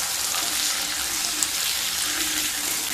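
Two medium potatoes stirred into a pan of well-fried onion and garlic, a steady broadband sizzle and scrape running evenly throughout at moderate level, no voices.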